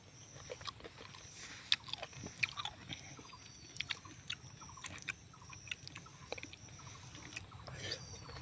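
Someone bites and chews sour green mango cut with a machete, giving faint, irregular crunchy snaps and chewing sounds against quiet background, with occasional murmured speech.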